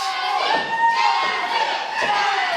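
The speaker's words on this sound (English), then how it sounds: "As you hear the fans cheering for her." Fans cheer and shout together in a loud, sustained roar from a large indoor crowd at a wrestling show, with scattered higher shouts rising above it.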